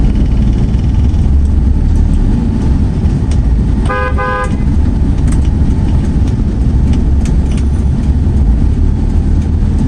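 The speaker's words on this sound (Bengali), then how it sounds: "গাড়িটা কি জানি ডাকতেছে আল্লাহ জানে" Up close, a car engine makes an odd strained noise, loud and continuous with a heavy low rumble, and a brief horn-like tone rises in the middle.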